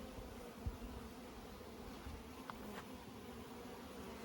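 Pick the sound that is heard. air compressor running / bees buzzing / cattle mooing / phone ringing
bees buzzing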